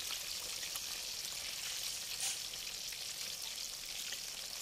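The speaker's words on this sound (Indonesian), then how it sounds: "Jadi ini kita goreng sampai berwarna kecoklatan, boleh dibalik sekali gitu ya." Tofu frying in hot oil until browned for gorengan, a steady dense sizzle with scattered crackles and pops, close and continuous with no talk.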